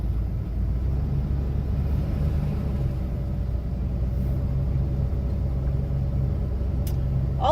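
An RV rolls along the road in Vicksburg Military National Park. The low engine and road rumble stays steady from inside the rig, and no one speaks.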